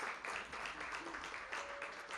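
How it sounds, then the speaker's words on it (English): Applause from an audience at a participatory budgeting press briefing while a woman walks up to the microphone; steady, fairly faint clapping runs through the whole moment. "we gonna clap her up until she gets to the microphone"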